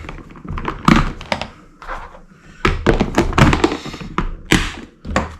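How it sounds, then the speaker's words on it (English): An airsoft Glock 17 pistol is dry fired, giving a series of sharp close clicks and snaps at irregular intervals, with handling noises between them. "Couple of dry fire shots."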